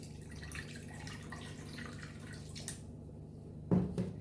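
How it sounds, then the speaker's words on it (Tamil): Water is poured into a spicy rava (semolina) batter in a bowl, a faint, quiet trickle and dripping that ends in a brief, louder splash. "இதை நல்லா மிக்ஸ் ஆகிறதுக்கு இன்னும் கொஞ்சம் தண்ணி விட்டுக்கலாம்"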